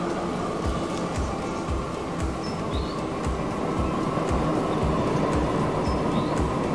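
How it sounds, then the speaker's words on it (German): An electric articulated train in Transport Fever 2 rolls past, its steady rumble and rhythmic wheel clicks on the rail joints continuous throughout, with faint high squeals over the track noise. "Und hier kommt er schon vorbei, unser neuer Zug. Einer von unseren neuen elektrifizierten."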